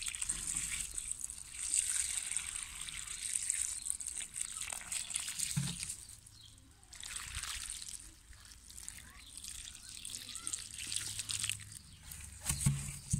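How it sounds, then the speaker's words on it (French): Water poured from a watering can into planting holes around freshly set leeks in a spring vegetable garden, a steady soft splashing and trickling that runs on throughout, with a person talking over it. "une fois que je les ai plantés, eh bien j'arrose pour combler le trou"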